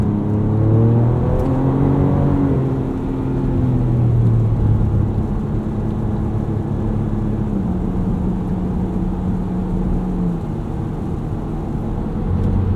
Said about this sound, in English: those are some first driving impressions in the Ranger Raptor on the new Yokohama G003 mud terrain tires